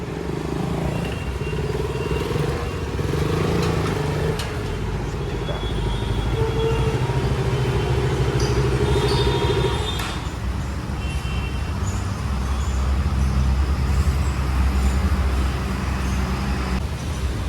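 A KTM motorcycle rides into a service showroom, its engine a steady loud rumble and drone that shifts in pitch partway through, mixed with surrounding road traffic noise.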